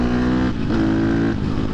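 A 2023 KTM 250 XC-F dirtbike engine on the street drones loud and close, its revs shifting through a downshift with a burbling exhaust rasp, steady and continuous throughout.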